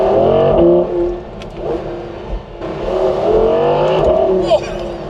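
Audi R8 V10 Performance accelerating hard on a B road, its engine revving loudly and rising through the gears with a short dip at each shift, heard close from inside the car.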